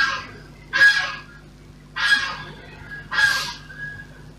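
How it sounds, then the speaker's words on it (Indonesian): A goose in a park gives three loud, separate honks at steady intervals, each one close and harsh against a quiet background, with no talking. "Angsa di taman belum tidur gini hari itu."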